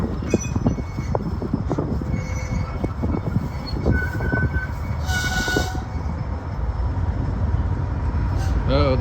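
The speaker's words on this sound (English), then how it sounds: "there's another CSX train going behind it." A CSX freight train rumbles past close by in Alexandria, Virginia, with clanking wagons and squealing wheels. Short horn blasts sound over the heavy, continuous rolling noise, and voices speak briefly in the background.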